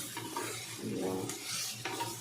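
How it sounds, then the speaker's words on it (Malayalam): Crab roast masala sautéing in a pan, a soft continuous sizzle with a few scraping stirs of a spoon against the pan, close and moderately quiet, with no talking. "എന്നിട്ട് ഇനി അതങ്ങനെ കിടന്നങ്ങോട്ട് വഴലട്ട് നല്ലോണം വഴന്ന്"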